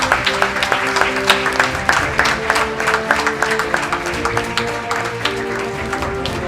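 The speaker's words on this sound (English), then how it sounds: "A big round of applause to the winner." An audience at a research awards ceremony applauds a winner with steady, moderately loud clapping, while background music plays underneath the claps throughout.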